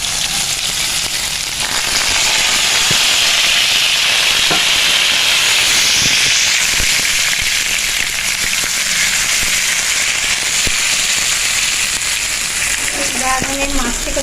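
Cumin paste sizzling in a generous amount of hot oil in a pan while chicken is cooked, a loud steady frying hiss with scattered crackles and pops throughout.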